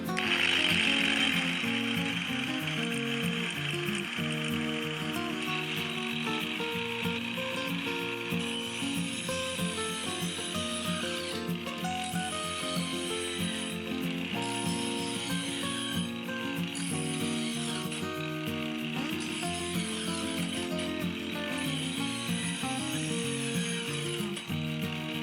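Angle grinder fitted with a saw blade, run at its lowest speed setting of about 3,500 to 4,000 RPM, gives a steady, loud mechanical whine with a high ringing tone that lasts throughout, and no one speaks.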